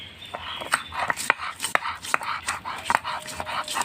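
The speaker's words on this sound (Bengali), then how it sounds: "এবার আমি আদা রসুন পেঁয়াজ একসঙ্গে বেটে নিচ্ছি" Ginger, garlic and onion are ground together into a paste with close, rhythmic scraping and knocking strokes, roughly two per second, fairly sharp and alone.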